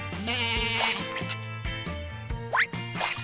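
Cartoon sheep bleating in short wavering cries over a bouncy musical backing, with a few bright plopping, dripping effects layered in.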